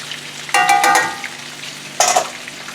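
A tonkatsu pork cutlet deep-fries in oil, giving close sizzling and bubbling with two brief louder bursts of crackle and no speech.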